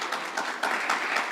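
A church congregation claps together during a sermon, a brief burst of scattered applause heard at moderate distance.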